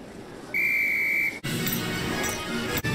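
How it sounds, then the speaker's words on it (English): A single sharp referee whistle from the Harry Potter and the Sorcerer's Stone PS1 game blows loud and steady for under a second, followed by a rush of flying wind and game ambience. "On my whistle, then."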